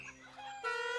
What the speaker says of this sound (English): Chickens? Farm? What's going on down there?